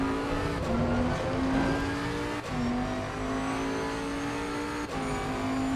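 A 2020 Bentley GT3 race car in the video game Assetto Corsa Competizione, its engine droning close and loud while pitch climbs through gears, with short dips at each gear change.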